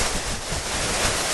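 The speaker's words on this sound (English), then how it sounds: "The closer you get to it, you really can feel the force of this 20-metre waterfall." A 20-metre waterfall in Jajce, Bosnia roars steadily from close range, a dense, continuous rush of falling water with no voices.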